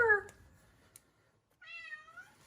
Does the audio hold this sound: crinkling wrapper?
no